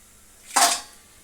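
A single sharp crunch of a crispy deep-fried festival snack, made from a flour dough, as it is broken or handled up close. The burst is brief and loud against near silence, with no talking.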